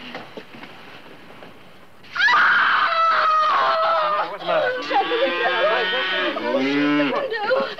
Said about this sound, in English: It's only cattle, that's all it is.